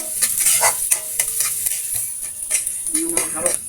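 Aromatics browning in a pan for Filipino pininyahang manok, with a loud close sizzle broken up by rhythmic stirring strokes and clinks of a utensil against the pan.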